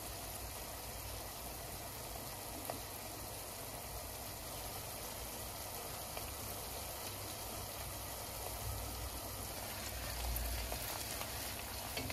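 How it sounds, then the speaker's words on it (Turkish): Steady sizzling and crackling of onions frying in hot vegetable oil, constant and close, with no talking. "Soğanlarımız güzelce kavruldu."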